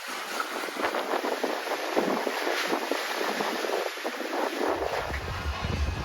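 A sailboat running downwind toward Ninian Bay at night, with continuous rushing wind across the microphone and water washing against the hull, rising and falling in gusts.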